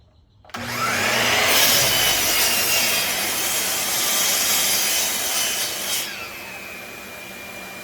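A saw whines loudly as it bites into plywood, a steady harsh cutting roar for several seconds before spinning down and fading.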